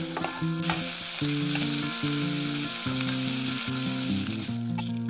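Shrimp fry in white oil with salt and turmeric in a kadai, giving a steady, close sizzle that holds at an even level for the whole stretch, with a constant tonal hum running underneath.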